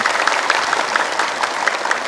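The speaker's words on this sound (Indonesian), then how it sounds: "Cakep, tepuk tangan." Studio audience at a religious sermon show clapping in a brief, steady burst of close, crisp applause.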